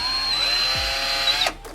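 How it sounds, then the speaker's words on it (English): A power drill whines steadily, boring a hole in a GMC Savana van conversion to mount a solar panel, loud and close for over a second before cutting off abruptly. "And now you're gonna drill it? I'm gonna drill it 2 steps."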